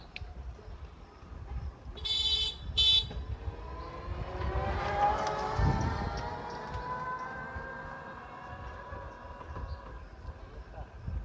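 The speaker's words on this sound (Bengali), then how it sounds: "গাড়ি আইতাছে, গাড়ি।" A vehicle on a village road sounds two short horn beeps, then its engine swells louder as it approaches and passes before fading away, with faint voices in the background.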